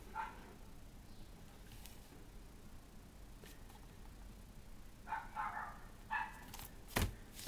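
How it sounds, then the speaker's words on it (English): A small yappy dog barks outside, a few faint distant yips early on, then a cluster of sharper, louder barks toward the end against quiet room noise. "Goddamn dog outside barking"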